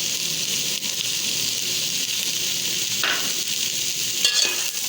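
Potatoes and bottle gourd fry in a pan, giving a steady, close sizzle with occasional scraping stirs and brief crackles, and no talking.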